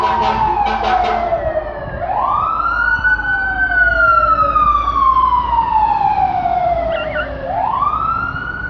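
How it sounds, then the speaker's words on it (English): A fire truck siren wails in long rising and falling sweeps as the engine passes, loud and prominent with a low vehicle rumble underneath and no talking. "And there's a fire truck."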